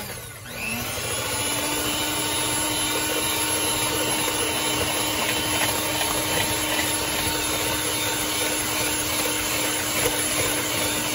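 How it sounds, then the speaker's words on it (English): An electric stand mixer runs on its lowest setting through banana pudding shortcake batter, a steady loud motor whine and whir that starts at once and holds without a break. "I'm gonna turn my mixer on the lowest setting. And just mix this up."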